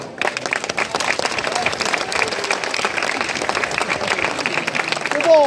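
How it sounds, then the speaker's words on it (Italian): Crowd applause for the confraternity president at the San Bartolomeo Apostolo festivities in Capizzi, steady outdoor clapping from a gathered crowd with voices mixed in, lasting several seconds before a brief sharp sound at the end. "Un applauso particolare al Presidente."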